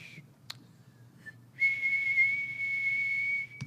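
Audience members whistle a sustained high steady tone imitating the 2600 hertz telephone line-free signal, held for about two seconds after a few brief chirps, over low room murmur at a hacker conference talk.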